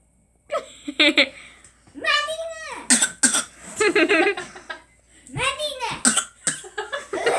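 A child coughs repeatedly in short bursts, some sounding almost like hiccups or laughter, with children talking in between throughout.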